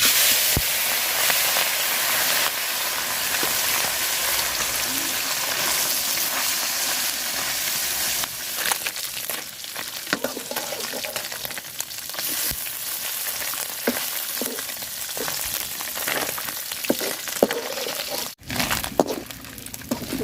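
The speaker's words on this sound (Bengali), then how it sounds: "তেল গরম হয়ে গেছে মাছ দিয়ে দিলাম" Small fish fry in hot oil for a sour dish with raw mango, giving a continuous loud sizzle and hiss close by, turning more crackly and uneven with scattered pops and stirring clatter later on.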